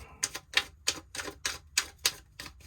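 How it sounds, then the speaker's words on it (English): Quick crisp riffling flutters of tarot cards being shuffled repeat in a steady rhythm, about nine short papery bursts, close and clear. "We'll do one more shuffle here."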